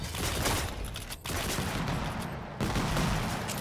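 Super shotgun fire and arena combat in Quake Champions, a dense, loud wash of blasts filling the whole stretch with a brief gap partway through, no voices.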